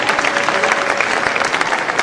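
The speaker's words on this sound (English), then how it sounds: "A clap for her, please." Audience clapping for an award runner-up at a film ceremony, a loud, continuous patter of many hands with no break across the short stretch.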